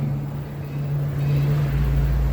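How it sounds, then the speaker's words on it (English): Noisy truck passing near a garden, a steady low engine drone with a tonal hum that swells louder toward the end, no talking. "Noisy truck."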